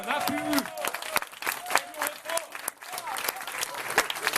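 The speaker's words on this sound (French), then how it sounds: "vos applaudissements sont parfaitement hypocrites" Audience applause in a Geneva council chamber following a political speech, a steady patter of many hands clapping with scattered sharper claps and some voices mixed in.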